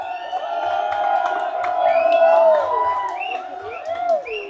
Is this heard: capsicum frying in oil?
no